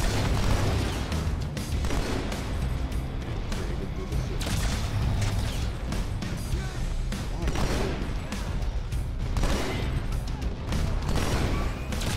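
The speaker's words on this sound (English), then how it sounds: "Grenade. Plasma grenade." Explosions, pops and bursts of gunfire in Halo 2 combat, a plasma grenade among them, in a dense, continuous battle din with voices talking over it throughout.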